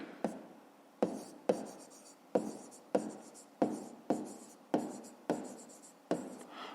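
A pen or pencil writes by hand on paper for a maths exercise, a series of about ten short scratchy strokes in an even rhythm, each a crisp tap followed by a brief scrape, close and quiet.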